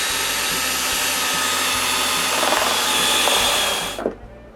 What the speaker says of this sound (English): To do so, I must drill 4 holes